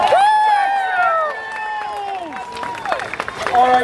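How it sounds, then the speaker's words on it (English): An audience at a live comedy stunt show cheers and whoops loudly, with rising and falling shouts at first and scattered clapping building near the end. "Everyone give Jackson a round of applause."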